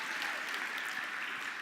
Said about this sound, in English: Let's give an applause to him.